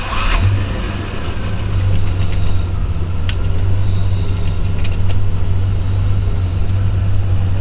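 A 1961 Pontiac Ventura Sport Coupe engine cranks and catches, then settles into a steady, loud, low rumbling idle close by.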